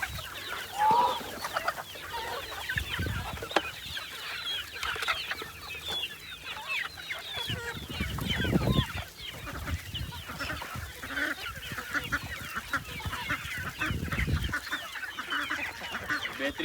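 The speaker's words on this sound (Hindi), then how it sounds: "हमारे जो डक्स हैं, डक आर्मी बड़े वाली, वो भी कह रही है कि हमें भी कुछ खिलाओ।" A flock of farm ducks quacks and honks in a busy overlapping chorus while calling for food outdoors, continuous throughout with brief louder bursts and rustling in the background.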